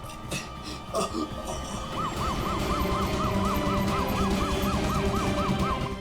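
An ambulance siren wails in a steady repeating rise-and-fall pattern over a busy street scene with car and engine noise, fairly close and sustained after a few seconds of background clatter.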